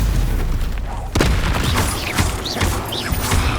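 A Stupefy spell in Hogwarts Legacy strikes with a loud, close booming impact, followed by a series of sharp crackling bursts and magical whooshes over a dense, continuous combat rumble.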